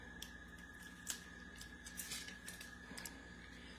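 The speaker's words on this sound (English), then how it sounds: "it's like I just got scissors." Quiet, crisp snips of scissors cut at irregular intervals against a faint steady hum.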